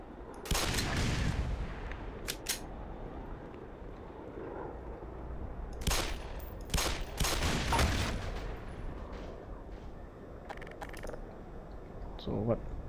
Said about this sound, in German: dann müssen wir uns durch diesen Minengang schießen